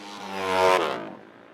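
Dirt-track motorcycle race with Kawasaki and Yamaha bikes, one engine note swelling as a bike passes close by, rising to a peak and then fading off into the distance.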